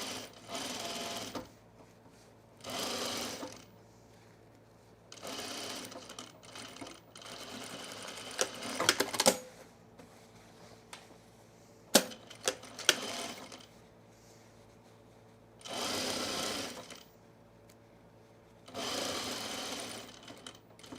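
A sewing machine stitches a narrow French seam on a skort, running in several short whirring bursts separated by pauses, with small clicks and handling sounds in between.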